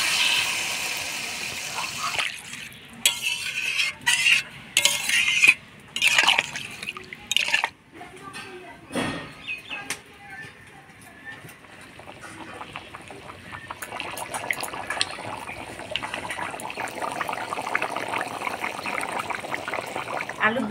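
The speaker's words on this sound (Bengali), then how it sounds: "এবার জল দিয়ে দিব।" Water poured into a pot of spiced potato curry (aloo dum), with bursts of splashing and trickling followed by a steady softer pouring stream, close by, with faint talk in places.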